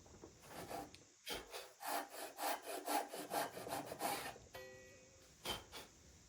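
A hand saw cuts into a wooden leg for a dovetail joint, rasping in a steady run of about a dozen even back-and-forth strokes, close and clear, before a pause and a couple of final strokes.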